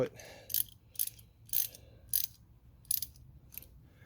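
Ratchet loosening 13 millimeter nuts on the front strut mount of a Chrysler Town & Country, sharp clicking bursts repeating about every half-second, close and crisp over faint background hum.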